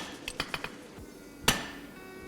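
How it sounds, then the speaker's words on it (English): A hammer strikes hot steel to forge the cheeks of a cross peen hammer, a series of sharp metallic clinks at irregular intervals, one louder ringing blow mid-way and another at the end. "I'm now going to start forging the cheeks with the hammer"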